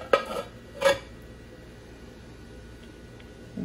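A metal saucepan lid set down over a pan of pudding on the stove, two sharp clanks close together near the start, followed by quiet kitchen background.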